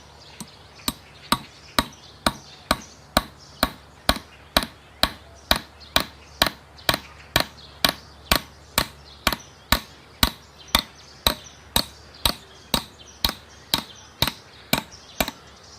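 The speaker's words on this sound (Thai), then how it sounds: "ผมจะมาใช้ตะปูขนาดสี่นิ้ว ในการตอกไปที่ไม้ไผ่" A four-inch nail is hammered into bamboo with a long, even run of sharp metallic blows, about two per second, loud and close with no talking.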